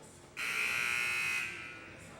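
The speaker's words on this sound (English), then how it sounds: "First buzzer sounds out of this full timeout" A long electric timeout buzzer sounds loud and steady for about a second during a college basketball game between Cardinal Stritch and Eastern Oregon, then fades into arena background.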